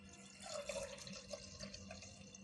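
Boiled and cooled milk pours into a container in a steady, close, soft liquid stream with light splashing bubbles, lasting a couple of seconds without speech.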